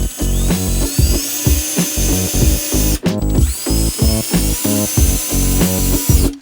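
Battery drill driving screws into a bifold closet door, loud and close, whirring in repeated stuttering bursts that rise in pitch, then a brief pause before another screw goes in.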